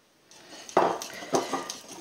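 A utensil stirs flour and sugar in a bowl for a lemon cake, making a few close scraping strokes and light clinks against the bowl.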